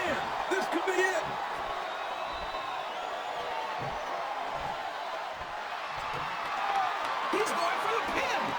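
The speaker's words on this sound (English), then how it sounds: "Sounds like this crowd's got something on their minds" Arena crowd in WWE SmackDown vs. Raw 2007 during an Undertaker vs Big Show match, a steady broadband roar that swells slightly near the end, with commentators talking over it throughout.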